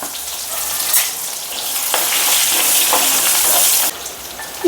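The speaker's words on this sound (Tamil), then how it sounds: "அந்த பரங்கிக்காய் வறுத்த சட்டிலேயே வறுத்தலான்னு சொல்லிட்டு கொஞ்சம் வெங்காயம்" Onions fry in a pan already used for roasting pumpkin, a loud, close, continuous hissing sizzle that swells and drops briefly, with a few stirring knocks and no voices.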